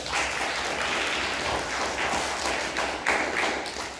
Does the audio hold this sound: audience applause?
yes